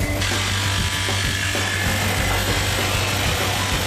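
A power screwdriver buzzes continuously at close range, a steady high motor whir with gritty grinding as the screw is driven.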